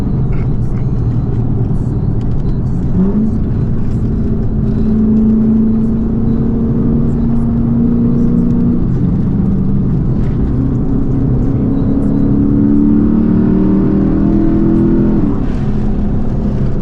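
A Lexus IS F with a V8 engine accelerating on a freeway, a loud sustained engine drone whose pitch climbs in several pulls over steady road and wind roar, heard from inside the car with no talking.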